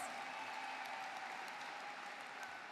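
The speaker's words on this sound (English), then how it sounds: "Please join me in giving these individuals a round of applause." Steady applause from the audience at the 2017 Daniel M. Therrell High School graduation ceremony, a continuous wash of clapping heard at a distance.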